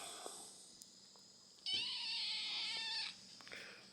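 A kitten with a broken leg gives one faint, drawn-out meow in a quiet indoor room, with a few soft taps before and after.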